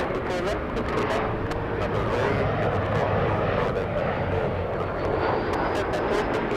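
A heavy airliner powers up for takeoff on runway 24 left at LAX, its engines a loud, sustained, broadband roar that holds steady throughout, with radio voices talking over it.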